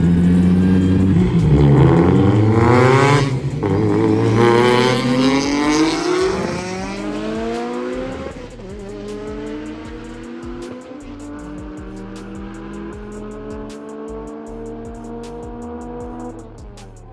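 A Mitsubishi Evo race car accelerates hard during a race, its loud engine note climbing through the gears with shifting pitch, then settling into a steadier high-revving drone with rapid rhythmic pulsing.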